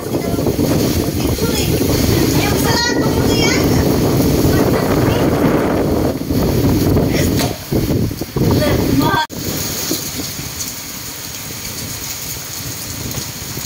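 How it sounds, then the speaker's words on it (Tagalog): Heavy rain roars steadily with gusty wind buffeting the microphone, dropping to a softer patter near the end. "Lakas ng hangin at ulan."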